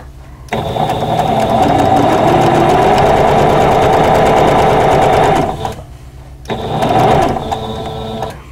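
Sewing machine stitching a quilt border along a drawn line, running steadily and loud for about five seconds, stopping briefly, then starting again for a shorter run.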